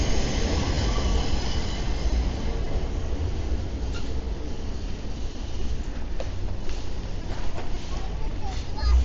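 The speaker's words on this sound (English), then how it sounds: "The train is passing overhead." A train rumbles by on elevated tracks overhead near Coney Island Avenue in Brooklyn, New York, a steady low roar with faint metallic clatter and occasional squeaks, while people talk nearby.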